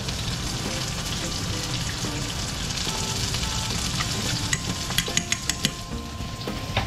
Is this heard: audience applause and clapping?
no